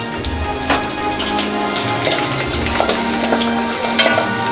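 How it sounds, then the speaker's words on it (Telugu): Cut green chilies and curry leaf sprigs frying in hot oil in a pan for tomato rasam, a continuous close hiss and crackle with a few soft clinks of utensils. "ఇవి కాస్త ఫ్రై అవ్వనివ్వాలి."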